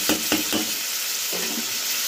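Chicken with soy sauce fries in oil, a steady close sizzle with a few quick scraping stirs early on and another stroke toward the end.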